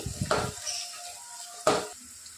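Onions frying in oil on high flame make a soft continuous sizzle, broken by two loud, close stirring scrapes, one near the start and one near the end.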